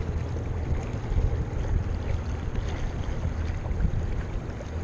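A Minn Kota Endura Max 45 trolling motor runs wide open at full throttle on a jon boat, giving a low steady churning rumble with water wash and wind buffeting the microphone.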